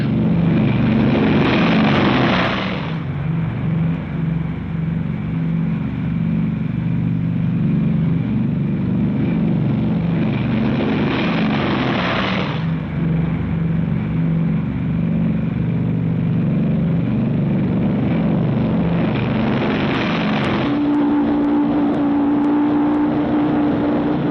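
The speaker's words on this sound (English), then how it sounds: "B-29 takeoffs are a tough sweat." A formation of B-29 bombers taking off one after another gives a continuous loud droning engine roar that swells and fades in three surges, heavy and unbroken throughout.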